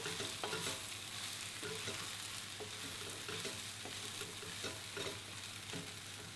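Mushrooms stirred around in hot oil and their own juices in a pot, with a continuous loud sizzle and scattered scraping strokes of a spoon against the pot.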